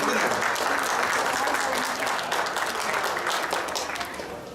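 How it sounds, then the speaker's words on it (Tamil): Audience applause at a Tamil New Year children's event in Changwon, a dense burst of clapping from a crowd, loud at first and slowly fading, with some voices mixed in. "கரகோஷம் கரகோஷம்"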